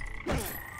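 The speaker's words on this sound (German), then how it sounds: "Frösche. Cool." A single short, low frog croak rises briefly over steady ambient game audio in LEGO Jurassic World, close and distinct, lasting under a second.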